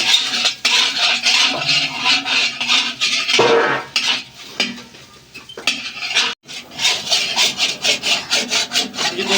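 Wheat flour roasting in desi ghee in a pan for flaxseed pinni, stirred vigorously with a utensil that scrapes the pan in loud, rapid, rhythmic strokes up close, with one short pause partway through.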